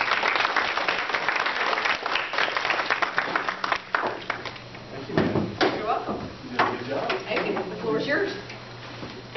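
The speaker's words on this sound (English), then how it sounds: "would you please welcome him with a nice big round of applause?" An audience at a 4H horse club talk applauds to welcome a speaker, with lively clapping at the start that thins into scattered claps and soft knocks and shuffles as people talk nearby.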